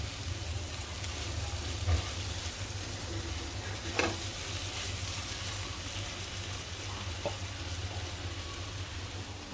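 Pav bhaji spices fry in oil and butter in a kadhai, giving a dense, even sizzle throughout with a few faint clinks of stirring, close and steady.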